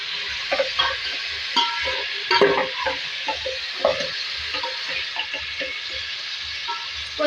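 Beef frying in a pan with ginger garlic paste for a tahari sizzles steadily, broken by scraping and clanking as a spoon stirs it at irregular intervals.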